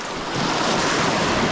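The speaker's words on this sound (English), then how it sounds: "Here comes a slight wave" Small sea waves wash into the shallows of a shore, a broad steady surf hiss mixed with wind, fairly loud and without voices.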